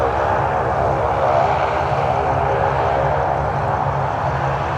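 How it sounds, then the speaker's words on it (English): A Saab 340 turboprop airliner taking off, a steady, loud propeller and engine drone that holds constant throughout with no pauses, as though heard from fairly close by. "Saab 340 takeoff."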